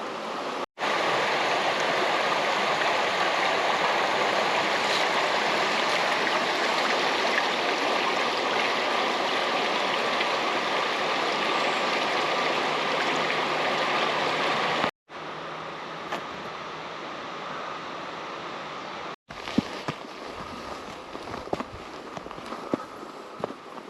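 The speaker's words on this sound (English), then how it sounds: "Let's have a look at the river." River seen on a walk around the reservoirs of Bradfield on a cold, partly frozen day: a steady, loud broadband rush of flowing water fills the scene, broken by a couple of short cuts and faint handling knocks, with no talking.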